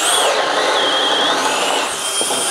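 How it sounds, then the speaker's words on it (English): A Flex right angle drill runs in reverse to clear chips and shavings from a bit after stalling during drilling, giving a loud, steady, close motor whine without a break. "Let's put it in reverse. Kind of clean it out a little bit."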